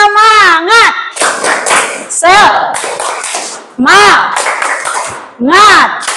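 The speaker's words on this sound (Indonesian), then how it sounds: "Coba tepuk semangat dulu." Students perform a rhythmic spirit clap in a classroom, loud close claps bursting in groups among children's chanting voices and a teacher's speech, the hands and voices alternating in lively, uneven bursts.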